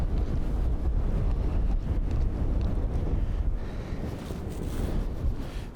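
Wind gusts steadily around a parked RV, a strong, continuous rumbling roar that buffets the microphone, rising and easing slightly, with no voices.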